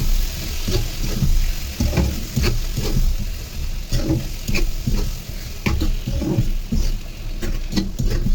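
Pre-cut, washed shrimp fry in a hot pan with oil while being stirred. Rhythmic scraping strokes about once a second ride over a continuous loud sizzle and bubbling.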